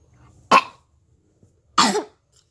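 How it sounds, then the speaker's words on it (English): A woman coughs twice, each a short, sharp burst about a second apart, close to the microphone in an otherwise quiet room. "She's been coughing a lot lately."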